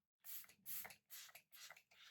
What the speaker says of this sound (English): Such a fine mister as well.